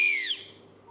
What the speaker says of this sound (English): Emergency whistles.